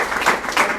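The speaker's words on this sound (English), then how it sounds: "if we just give a round of applause to yourselves" A brief burst of audience applause at an evening gathering, a dense wash of clapping swelling twice in quick succession, fairly loud and close.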